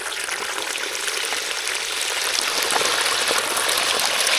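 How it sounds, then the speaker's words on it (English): Fresh water gushes steadily into a bucket as it is rinsed out on a farm, a loud, close, continuous splashing rush with no voices. "just giving it a quick wash out. I put some fresh water in"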